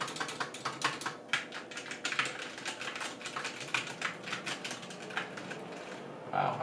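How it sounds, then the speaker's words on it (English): Steady typing on a YUNZII mechanical keyboard fitted with Gateron Brown switches, rapid close key clacks in an uneven rhythm with a heavier space-bar thump near the end, no talking. "typing test"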